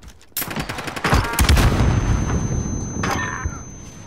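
Bizon submachine gun firing in Call of Duty: Modern Warfare, a loud dense burst of rapid shots with booming impacts, tapering into a rumbling tail and a second short burst.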